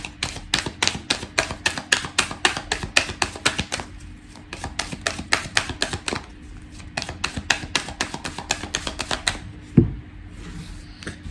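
Persian tarot cards riffled and shuffled in rapid bursts of crisp, clicking slaps, pausing briefly midway before a second flurry of shuffling, ending with a soft thump as cards are set down; no one speaks.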